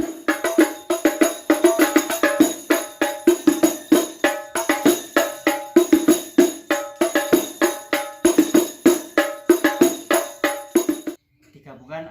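A terbang frame drum is struck in a fast, steady pattern combining two rhythms, with sharp repeated hits ringing close and loud before stopping abruptly near the end.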